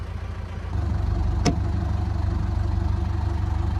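A narrowboat engine idles steadily to warm up, a low, even diesel-like throb close by, with one brief sharp click partway through.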